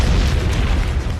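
A documentary explosion effect, set at a Pakistan compound at night, gives a loud, deep, rumbling boom that fills the whole moment with dense low roar and no voices.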